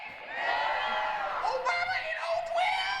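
A comedy-show audience at a Steven Crowder stand-up set whoops, yells and cheers in a sustained, loud crowd roar, with some voices rising above the mass.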